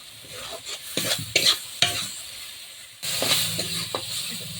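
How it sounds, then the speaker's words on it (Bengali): Spice paste (masala) for poppy seed chicken is stir-fried in a pan with close, loud sizzling and bursts of scraping strokes. The sizzle swells louder in the second half and has no voices over it. "তাতে মশলা কষিয়ে দেবো মশলাটাকে কষবো মশলাটাকে একটু কষবো"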